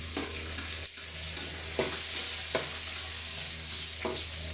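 Chopped onions sizzle steadily in a hot pan while a utensil scrapes and stirs them every second or so, close and alone with no talking.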